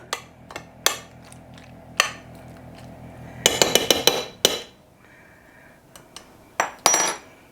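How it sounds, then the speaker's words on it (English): Spoon clanking and scraping in a pan as macaroni pie ingredients are mixed, irregular close metallic knocks with a dense burst of rapid clatter midway, no speech. "I'm gonna give this a little mix"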